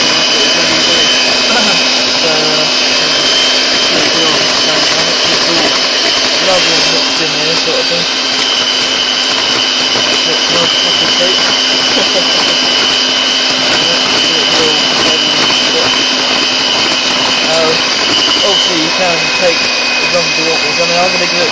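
An electric hand mixer running on its highest turbo setting whirs steadily as it beats lemon cake batter, a constant loud motor drone lasting throughout, with no pauses.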